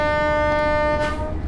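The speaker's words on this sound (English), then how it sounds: "I know you shouldn't really toot after the level crossing" Sustained, loud horn blast from an LNER express in Train Sim World 5 on the East Coast Main Line, a steady multi-tone chord held for over a second over low rumbling track noise before tailing off.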